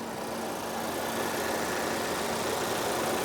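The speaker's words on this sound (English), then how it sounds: "you can hear idling very smoothly" A 2020 Audi Q5 in Azores Green Metallic idles with its hood open, giving a steady, smooth engine hum with a faint constant whine and no revving.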